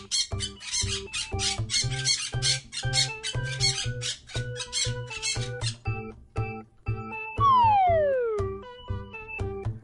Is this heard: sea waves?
no